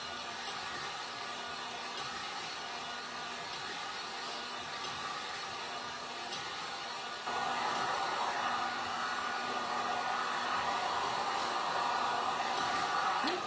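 A hair dryer blows on freshly stenciled paint on a cardboard Valentine's snowman banner, a steady close whooshing hum that grows louder partway through as the dryer moves nearer.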